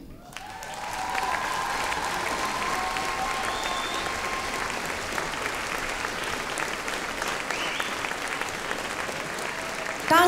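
Steady, dense audience applause fills a school hall after a dance number in a school musical, rising quickly and holding at full strength throughout with no voices standing out.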